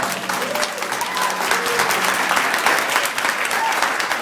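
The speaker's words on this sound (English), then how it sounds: "Another round of applause for our maid of honor, Megan, everyone." Wedding guests applauding, a dense continuous round of clapping from a crowd filling the room, steady and fairly loud throughout with a few voices mixed in.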